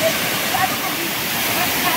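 Cachoeira do Nestor, a waterfall, pours with a loud, constant broadband roar and hiss, steady and close throughout, with a voice faintly present beneath it.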